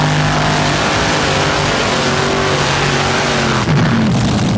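A 1987 tractor-pull machine called the Driller, a pulling tractor, roars down the track at full throttle, a loud sustained engine drone with a shift in pitch near the end.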